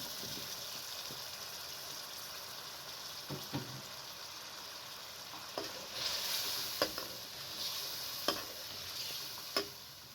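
Potatoes go into a frying egg and potato qorma, a soft steady sizzle broken by scattered spoon scrapes and knocks against the pan, fairly quiet and close, with no voices.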